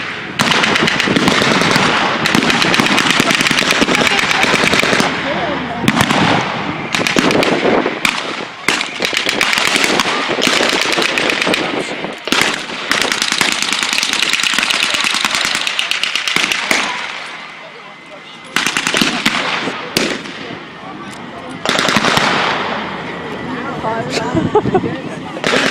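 Blank rifle and machine-gun fire at a World War 1 reenactment, dense bursts of loud cracking shots rattling for long stretches with brief pauses, shouted voices mixed in.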